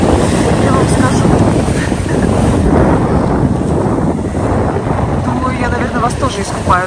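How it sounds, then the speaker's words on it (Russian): Strong wind buffets the microphone on a Black Sea beach at Lazarevskoye, roaring steadily over the rush of surf for the whole stretch, with a voice faintly audible beneath. "Ветер такой сильный."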